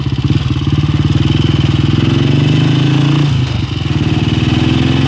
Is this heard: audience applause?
no